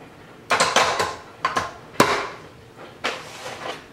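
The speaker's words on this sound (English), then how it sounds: "Now I'll place my bowl on top of my mixer." Mixing bowl set onto a stand mixer in a home kitchen, several sharp metallic clanks and knocks spaced unevenly over a few seconds, close and fairly loud.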